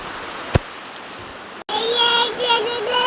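Steady rain falls, a dense close hiss of drops filling the scene, broken by a brief sharp knock and a momentary dropout, after which the rain continues with higher tonal sounds layered over it.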